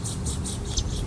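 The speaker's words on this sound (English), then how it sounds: "That's actually a fledgling of a prairie warbler, a really cool bird that relies on disturbance in the landscape" A prairie warbler fledgling gives a rapid series of thin, high chips, about five evenly spaced calls, faint over a low outdoor background hum.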